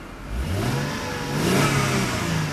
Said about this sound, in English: we'll give it a little rev and have a look at the engine